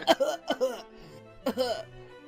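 Several short, harsh coughs come in two clusters, close up, with a brief quiet gap between them.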